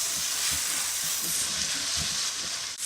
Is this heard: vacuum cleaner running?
no